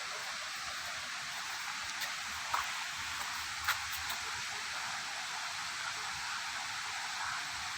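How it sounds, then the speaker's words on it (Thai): Water at Samrong Kiat waterfall rushes as a steady, even hiss, unbroken throughout, with a couple of faint clicks over it. "ดูเสียงน้ำ"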